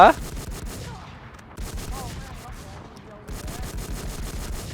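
Video game gunfire rattles in rapid automatic bursts, with three clusters of shots separated by brief quieter gaps. It sounds moderately loud and close.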